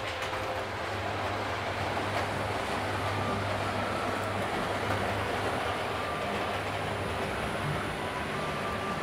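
A model railway locomotive runs along the track of a home layout, a continuous rumbling whir with faint rhythmic clicking, steady and fairly loud with no voices.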